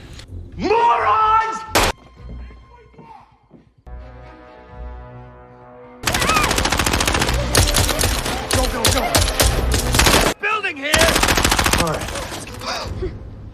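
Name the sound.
film gunfire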